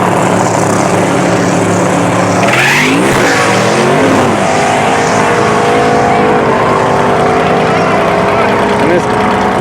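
A race car engine revs hard at the burnout box during a racing week, a loud continuous roar with rising and falling pitch sweeps, close by throughout.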